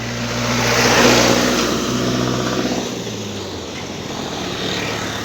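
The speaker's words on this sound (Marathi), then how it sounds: "ही दुधा गाडी आमची येता" A milk delivery van approaches with a steady engine drone and low humming tones that swell, ease off, then rise again near the end, with no talk over it.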